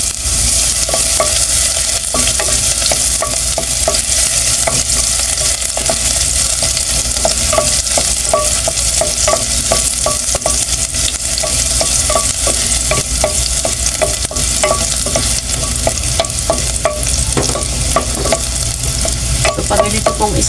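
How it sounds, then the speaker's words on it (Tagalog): Ginger sizzling and crackling in hot oil in a casserole pot, a steady loud frying hiss with frequent stirring clinks throughout and no talk. "mainit na po yung ating kaserola, may mantika. So, unahin po natin yung ating luya."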